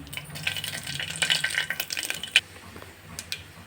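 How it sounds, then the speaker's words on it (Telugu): Cumin, mustard seeds, curry leaves and dried chillies crackle and sizzle in heated oil while a chicken curry is being started, a steady hiss with scattered pops and a few sharper spits, close and fairly quiet. "ఆయిల్ అయితే హీట్ అయింది ఇప్పుడు కొద్దిగా జీలకర్ర ఆవాలు అలానే కరివేపాకు కొద్దిగా ఎండుమిర్చి"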